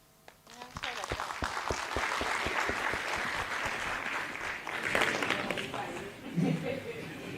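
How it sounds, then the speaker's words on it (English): Applause from a conference audience at a lodge event, a dense burst of clapping that starts abruptly and holds steady for several seconds, with crowd chatter and a brief voice near the end. "Let's clap once again, hands for her."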